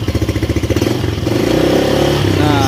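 A Honda Beat Street motorcycle engine starts with a rhythmic chugging crank, then settles into a steady, close idle with a clattery tone, and a voice briefly speaks near the start.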